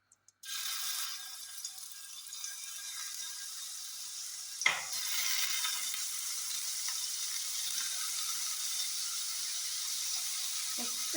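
Paneer frying in a pan makes a steady, close sizzle. One sharp clatter comes partway through, probably a utensil stirring or turning the pieces, and the sizzle carries on evenly afterward with no talking.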